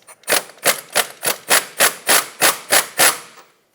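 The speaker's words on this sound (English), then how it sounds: "I'm going to use a 21mm socket on this, see if I can break it free with my impact" Impact wrench with a 21mm socket hammering on a Mazda 6 tie rod, about nine sharp, evenly spaced rattling bursts in quick succession, loud and close with nothing else heard.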